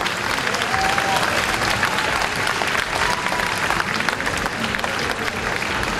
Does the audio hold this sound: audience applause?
yes